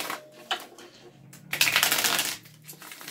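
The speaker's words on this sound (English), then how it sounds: "I'm going to shuffle one more time" Tarot cards are riffled and shuffled close up, a few soft flicks before a long, rapid burst of rustling card shuffling that fades out.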